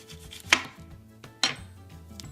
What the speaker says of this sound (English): The next step is to cut some of the top of the garlic